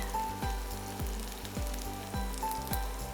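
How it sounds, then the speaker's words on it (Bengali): Flat beans frying in a pan for a Bengali bharta, a steady close sizzle running throughout with a rhythmic series of soft thuds from stirring or tossing roughly every half second, no talking. "একটু বাদামি করেই ভাজবো।"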